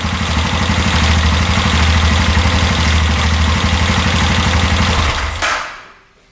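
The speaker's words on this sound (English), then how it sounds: "engine sounds really healthy" A UTV engine idles steadily and loudly close by, a continuous low mechanical hum with light clatter, then cuts off abruptly near the end, leaving quiet.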